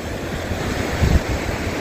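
Sea waves roll onto a sandy beach beside a cottage, a broad rushing wash with a deeper surge midway, close and steady with wind noise across the microphone.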